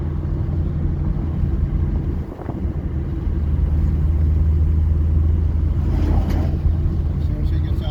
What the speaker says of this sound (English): this thing has loads of torque